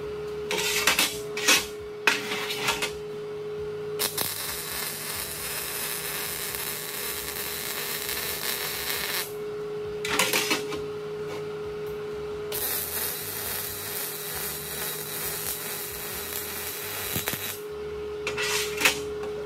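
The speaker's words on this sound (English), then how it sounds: "we're going to weld them out just so it's a lot easier to weld in this position" Steel legs of a deer feeder stand are welded in several long stretches of steady buzzing crackle, each lasting a few seconds and separated by short pauses with faint clatter.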